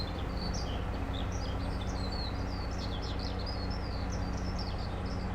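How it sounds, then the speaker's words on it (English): A bird in a farming video game repeats loud, quick chirping calls without pause over a constant droning in-game ambience, no talking. "That bird is fucking loud, I can tell you that for nothing."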